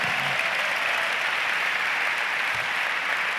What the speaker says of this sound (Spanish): Si vamos a aplaudir al Señor, aplaudamos fuerte.